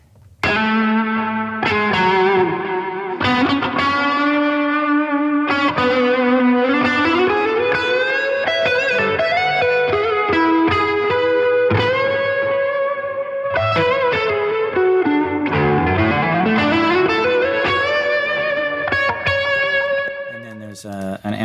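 Distorted electric guitar played through a Hughes & Kettner Deluxe 20 amp into a Trainer oversized 1x12 cab, miked with a FET 47 and an SM57. It plays a continuous soaring solo with bends and slides, loud and sustained throughout.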